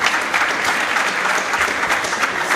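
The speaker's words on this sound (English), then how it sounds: "Let us give him a full attention and a big round of applause as he takes his time." A seminar audience applauds steadily and fairly loudly for a tech speaker, a dense wash of claps holding even from start to finish with no voices breaking through.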